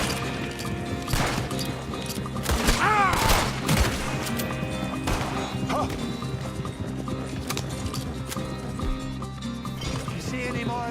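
Scattered gunfire in the Red Dead Redemption 2 video game cracks out among horse hooves, a whinny and music, several sharp shots spread through the stretch at moderate loudness.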